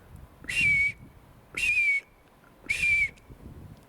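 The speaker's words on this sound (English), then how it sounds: "I got whistles here. Whistles down there." Three loud, sustained whistles sound in the woods at a shrine, each a steady tone of about half a second with a slight downward glide, evenly spaced against quiet forest background with no talk.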